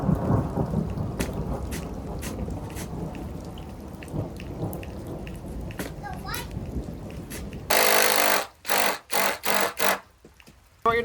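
Low rumbling thunder rolls under steady rain, then a voice speaks in loud bursts toward the end.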